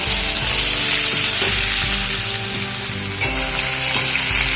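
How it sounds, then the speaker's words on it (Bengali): Ginger frying in a pan while being stirred, a loud, steady, close sizzle with scraping stir sounds and a faint musical background throughout, no talking. "আদা দেওয়ার পর একসঙ্গে 2 মিনিট মতন নাড়াচাড়া করে ভেজে নেব।"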